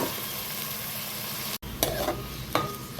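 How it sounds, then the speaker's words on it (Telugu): Chopped onions and green chillies fry in hot oil in a pan, giving a steady close sizzle with a couple of brief stirring scrapes, and no talking. "ఇప్పుడు దీనిలోకి కట్ చేసుకున్న ఉల్లిపాయ ముక్కలు వేసేసుకున్నాము"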